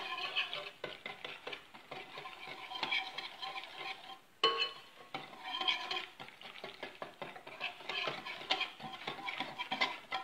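Cake batter with Nutella is stirred in a bowl, making faint, continuous scraping and sloshing strokes at a quiet, close level.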